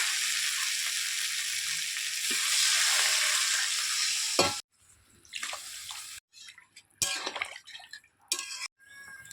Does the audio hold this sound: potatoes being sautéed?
yes